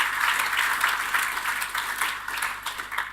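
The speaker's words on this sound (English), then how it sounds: "can I have another round of applause for the development partners?" Steady audience applause fills a plenary session hall at the Pacific Energy Conference, a dense continuous wash of many hands clapping at close range that holds for several seconds without any voices.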